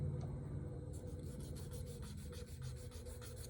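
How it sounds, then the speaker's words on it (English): A nail file rasping over natural nails to trim them during prep for acrylic nails, a faint, quick back-and-forth rubbing in steady strokes over a low background hum. "I'll take my file and I'll just trim it up for application"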